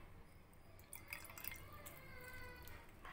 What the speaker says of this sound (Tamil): இப்போ நம்ம இன்னும் ஒரே ஒரு பிஞ்ச் தண்ணி விட்டுக்கலாம்